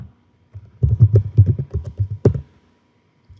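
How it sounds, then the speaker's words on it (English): Typing on a computer keyboard, a close quick run of about a dozen soft key taps ending in one harder press, heard alone in a quiet room. "I'm typing in a keyword for patents."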